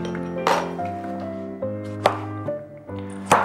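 A knife cutting a firm tomato into small cubes in a kitchen, with several sharp chops and clinks against a board, spaced irregularly, over a sustained musical drone in the background.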